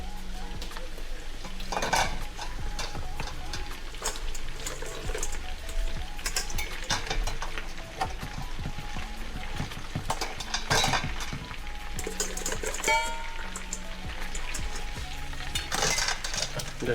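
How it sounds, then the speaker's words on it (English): Halved crabs cook in melted butter in a pan, a steady soft sizzle under repeated clinks and scrapes of a utensil against the cookware. "Just wait for the butter to melt and you can toss in the crabs."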